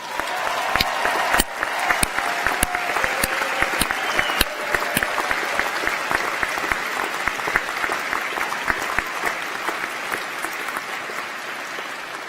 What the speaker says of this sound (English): I think you should all give yourselves a massive round of applause